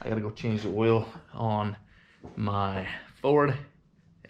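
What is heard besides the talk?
No everyday noises stand out.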